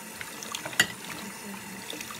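Tap water runs steadily into a kitchen sink as dishes are rinsed, a soft continuous splashing with a few small clinks and knocks, close and alone.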